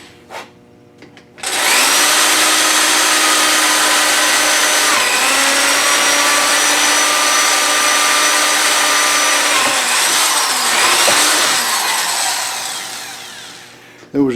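A power drill bores a hole through a board for a door hanger: a loud, steady high whine held for about twelve seconds that eases off at the end, very close.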